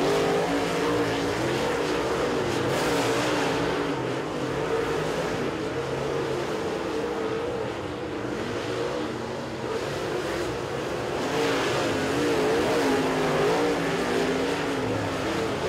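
Super late model race cars roar around Moler Raceway Park in a dense, continuous engine drone that swells and fades slightly as the pack circles, loud and unbroken throughout.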